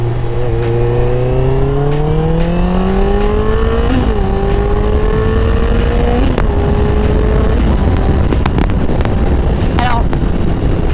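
A 2019 Honda CBR 650R four-cylinder sport motorcycle, restricted for the A2 licence, ridden gently with the engine note rising and stepping through gears under steady wind rush, heard from the rider's position with a voice speaking.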